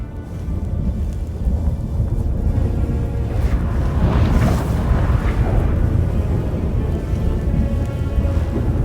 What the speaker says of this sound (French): Qu'est-ce que c'est? Un orage?